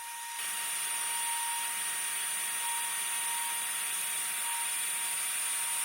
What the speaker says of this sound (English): I was just using that bit of MDF to guide the router in a straight line